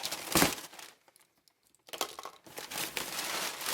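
Packing paper crinkles and rustles inside an Amazon package being unboxed, a loud burst of crumpling followed by a pause and then further sustained crackling handling close by.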